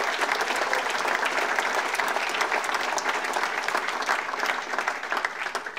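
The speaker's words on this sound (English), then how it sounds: "One more round of applause for the kids who came out." Sustained applause from an audience at a State of Play opening session, steady, dense clapping filling the whole stretch and tapering slightly toward the end, with no voice over it.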